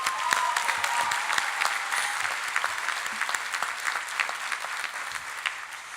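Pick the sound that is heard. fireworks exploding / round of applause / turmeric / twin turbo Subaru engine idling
round of applause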